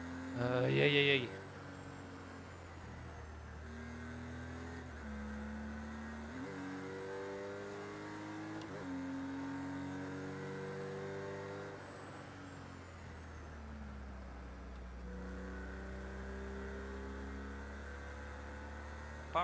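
Boxer-engined racing car in a driving video game, its engine droning steadily with repeated rising pitch sweeps as it accelerates through gears, moderately loud and continuous with a brief louder burst near the start.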